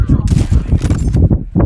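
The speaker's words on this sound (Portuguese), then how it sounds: "Tá me atirando." Gunfire in the mobile shooter Call of Duty Mobile: loud, dense bursts of rapid shots pounding through the whole stretch, with a player talking over the fighting.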